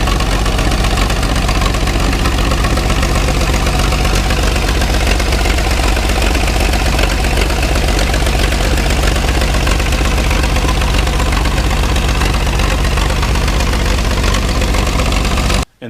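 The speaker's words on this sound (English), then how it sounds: "it was 800 cubic inches of gasoline burning, 6-cylinder straight stacked awesomeness" An Allis-Chalmers L crawler's 800-cubic-inch straight six-cylinder gasoline engine runs steadily and loudly up close, a constant heavy rumble with knocking pulses that cuts off abruptly at the end.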